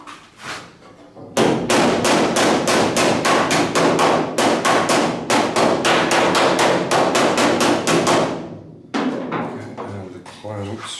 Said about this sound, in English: Back to that, hammer that down.